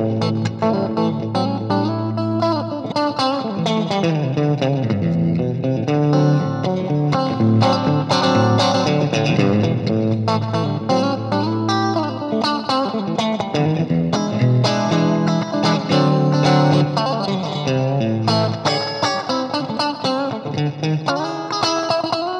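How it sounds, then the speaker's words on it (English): Electric guitar played continuously through a reverb pedal set to a small size, with early reflections giving a springy, spring-reverb-like bounce to the strummed chords and picked notes, steady and upfront. "Yeah, sounds something like a spring reverb."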